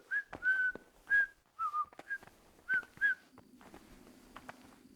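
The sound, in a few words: someone whistling in Kingdom Come Deliverance video game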